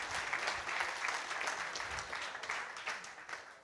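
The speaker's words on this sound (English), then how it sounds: "I should get a round of applause." Audience applause at a developer conference talk, a sustained patter of many hands clapping at moderate distance that holds for a few seconds and then tapers off slightly.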